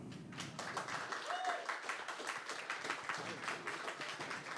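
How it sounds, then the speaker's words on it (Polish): Applause at a jazz session as an artist is introduced, a soft, steady patter from a small audience. It is fairly faint and continuous, and a voice or other sound rises briefly partway through. "Wielkie brawa"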